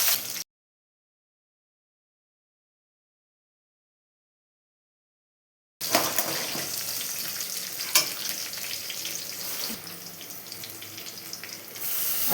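Cumin seeds and green chillies sizzle and crackle in hot oil in a pan for a South Indian meal, a steady broadband frying hiss with small pops, starting abruptly after a stretch of silence and continuing close and fairly loud.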